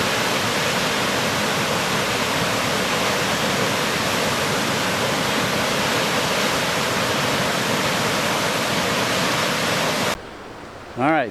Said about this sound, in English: On to the next waterfalls.